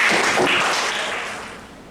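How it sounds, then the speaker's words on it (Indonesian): A classroom of physics students claps together, a short, dense burst of applause that starts strong and fades out within two seconds, with no talking. "Mari kita beri tepuk tangan untuk kita."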